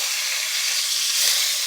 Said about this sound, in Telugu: ముందు చేప ముక్కలు ఫ్రై చేయాలి.